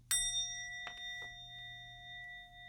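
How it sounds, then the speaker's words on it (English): A small bell rung once for a blessing at a tarot ritual, giving a bright, ringing strike that lingers and slowly fades, with faint handling sounds during the decay. "blessing with the bell"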